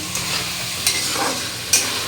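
Spices fried in a pan with salt added, stirred steadily: a continuous soft sizzle with a few sharp scraping strokes of the spoon, close and moderately loud, no voices.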